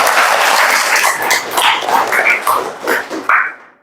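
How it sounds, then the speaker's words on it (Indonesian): Classroom applause from students during a school lesson: a burst of scattered, uneven clapping that thins out into a few separate claps toward the end, fairly close with no talking. "beri tepuk tangan dong buat Arga."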